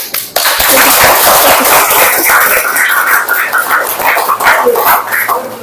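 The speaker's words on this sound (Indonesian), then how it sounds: "Beri tepuk tangan." A group in a classroom session for a teacher training program at UIN Salatiga breaks into loud, dense applause, many hands clapping together continuously for several seconds.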